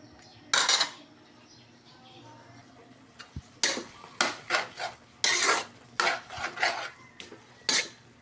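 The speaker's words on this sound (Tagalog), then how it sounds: "Ilagyan na natin ng sutanghon" Washed sotanghon glass noodles are added to a home cooking pan for sotanghon guisado, giving a series of close, sharp clatters and scrapes of utensils against the pan in irregular bursts, with no talking.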